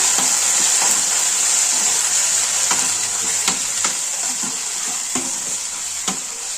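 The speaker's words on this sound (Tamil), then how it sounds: "நல்லா ஃப்ரை ஆகும்." Tomatoes for mutton gravy sizzle and fry in a pan with a steady, bright hiss, broken by occasional scraping taps of stirring; close and loud, with no speech.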